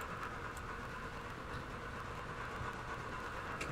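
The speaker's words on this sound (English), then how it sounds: "passenger train" A passenger train runs in the Railroader video game: a steady, even rolling rumble with faint rhythmic clicking of wheels over track, continuous and moderately loud, with no talk.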